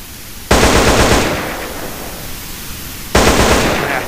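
Two loud, close bursts of rapid automatic weapon fire from GTA San Andreas, each a sharp onset with a rattling tail, separated by a quieter gap of a couple of seconds.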